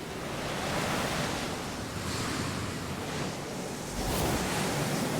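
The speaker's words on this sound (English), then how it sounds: "It's really windy!" A strong, steady wind roars without pause in the video game Final Fantasy XIV, with gusts that swell and fade like surf. No voices.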